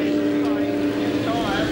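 Orcon Ford Falcon V8 Supercar rolling into pit lane for a tyre change at Barbagallo during a 2002 V8 Supercar Championship round, a steady engine drone under continuous race commentary.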